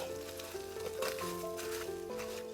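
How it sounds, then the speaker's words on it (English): Seasoned shrimp with salt and black pepper sizzle and fry in a pan while being stirred to coat them, a steady crackling with soft scraping under a faint tonal hum. "And then I'm just going to give them all a nice stir to get them all nice and coated."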